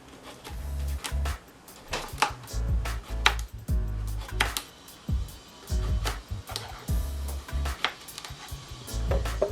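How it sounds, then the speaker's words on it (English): Cucumber diced with a knife on a cutting board: close, rapid irregular chopping knocks and thuds in bursts throughout, with no talking. "we're going to take our cucumber and we're going to just dice that up into pieces."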